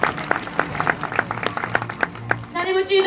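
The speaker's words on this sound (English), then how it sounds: "I definitely think that deserves a nice round of applause" Brief, scattered clapping from a small audience, with a few distinct claps at first. It swells into a louder burst of applause toward the end.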